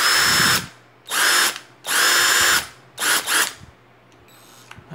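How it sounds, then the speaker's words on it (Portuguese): A hammer drill in drilling mode whirs loudly in four bursts, two long and two shorter, with brief pauses between as it bores into material. "Tava na posição martelete e aqui é a posição furar."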